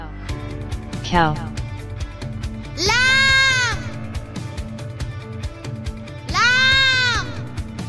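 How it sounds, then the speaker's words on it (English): A lamb bleats in two drawn-out, wavering calls, preceded by a shorter cry. Each call is clear and near, with a gap between them. "Lamb."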